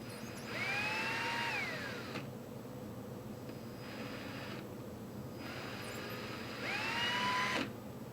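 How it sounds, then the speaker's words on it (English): A small drill with a 5/64 bit whines at high pitch in two short bursts drilling plastic for a mounting plate, rising and then dropping off, over a steady background hum with no talking. "We're going to jump up to a 5/64 drill bit."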